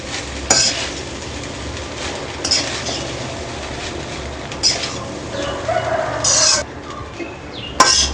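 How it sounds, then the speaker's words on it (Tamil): A spatula stirs vegetable fried rice in a hot pan over high flame, giving a steady scraping and tossing with light sizzle and a few sharper clanks of metal on the pan, close by and fairly loud, with no talk. "இப்போ நல்லா மிக்ஸ் பண்ணிக்கலாம்"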